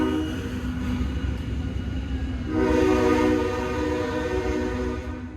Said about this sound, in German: Es fuhr nämlich ein Zug am Magnolia-Gelände vorbei, da ist noch eine Bahnstrecke